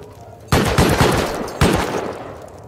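Automated turrets in the video game Rust let off two loud, close bursts of rapid gunfire, each opening with a sharp onset and then trailing away.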